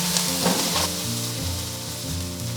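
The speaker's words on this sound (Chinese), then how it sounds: "煎好以后，我们立即倒入开水" Boiling water is poured onto pan-fried fish head and bones in a hot iron wok, producing a loud, dense, close sizzle and hiss that fills the whole moment without speech.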